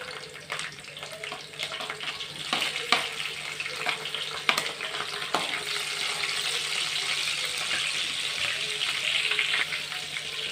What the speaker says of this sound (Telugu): ఆయిల్ అయితే వేడైపోయింది. ఇప్పుడైతే ఇందులో వెల్లుల్లి వేస్తున్నాను.